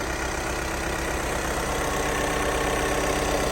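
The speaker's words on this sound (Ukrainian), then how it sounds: "Зараз заведу двигун, покажу вам підкапотний простір." A Skoda Superb 2.0 TDI diesel engine idles steadily and evenly, a constant low rumble with no revving, close by and unchanging throughout.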